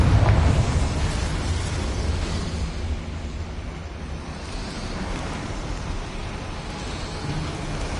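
A Confringo fire spell explodes in Hogwarts Legacy, a loud, broad roaring blast that swells at the start and then settles into a sustained rumbling wash of noise.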